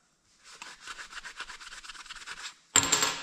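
A hand rubs briskly over a car radiator surface during a repair, giving a quick rhythmic series of dry scrubbing strokes, close and fairly quiet, ending in a sharper louder burst of noise.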